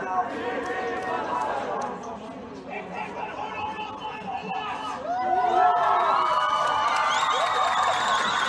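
A large audience of college-age women breaks into cheering and a standing ovation, loud excited shouts and whoops rising over dense chatter, swelling louder in the final few seconds.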